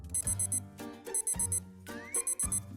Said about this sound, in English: Oh, that's my cat timer.